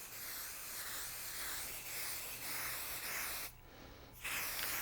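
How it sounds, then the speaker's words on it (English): Spray adhesive hisses onto quilt batting in a steady spray for several seconds, pauses briefly, then resumes, close and fairly loud. "the next thing is to spray the top of the batting"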